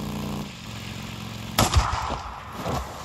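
Sniper fire in the open-world game Days Gone: a single loud, sharp crack followed by a couple of rumbling echoes, standing out against a quieter ambient background with no talk.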